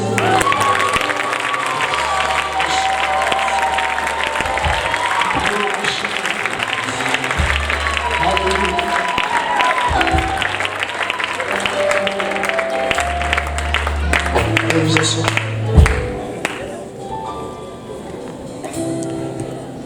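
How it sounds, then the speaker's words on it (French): A church congregation at a francophone conference applauds and cheers amid crowd noise, with sung or spoken voices and musical tones running over the clapping throughout, ending with a sharp accent near the close. "Est-ce que quelqu'un peut applaudir aussi?"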